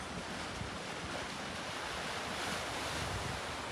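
Sea surf washing into a swimming pool blasted out of coastal rock, a steady broadband rush of waves with wind buffeting the microphone throughout, no voices.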